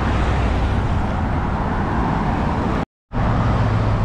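Dense road traffic in Lockport, a steady close roar of cars and heavier vehicles rolling past, broken by a brief cut near the end before the rumble resumes.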